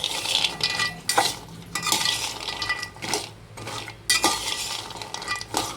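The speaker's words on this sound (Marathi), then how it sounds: "पिस्ता, बदाम आणि काजू आपण चांगले भाजून घेतोय" Pistachios, almonds and cashews are roasted in a pan, with bursts of rattling, scraping stirs separated by brief quieter pauses, close and fairly loud.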